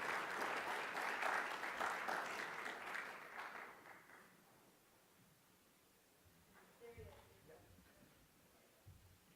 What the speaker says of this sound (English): a warm round of applause for Dr. Riaz.